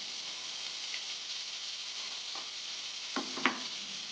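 Ridge gourd pieces fry with turmeric, curry leaves and green chillies in a pan, making a soft steady sizzle with a few brief stirring clatters near the end.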